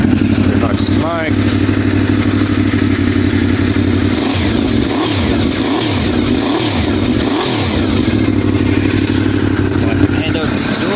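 A 1988 Honda VFR750FJ Rothmans motorcycle engine starts cold, then settles into a loud, close idle, with repeated throttle blips and revs rising and falling midway.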